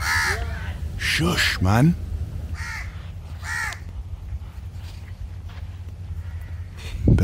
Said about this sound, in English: It would be easier if these birds weren't making all this noise.